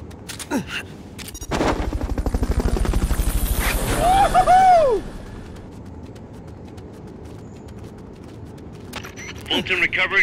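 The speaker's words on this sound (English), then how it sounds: "Fulton recovery helicopter is complete." Fulton recovery helicopter in the video game Metal Gear Solid Peace Walker, its rotor thudding in a loud rapid pulse that swells and then cuts off, with a whooshing sweep near the end and a quiet stretch after.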